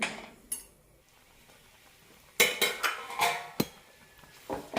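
Metal lid set onto a cooking pot of ripe banana chilli curry, giving several sharp clinks and clatters of metal on metal at close range, with a quiet stretch between the first knock and a later cluster of rattles.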